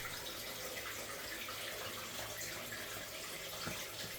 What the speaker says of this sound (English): that's why you get features like this natural spring feeding straight into a waterfall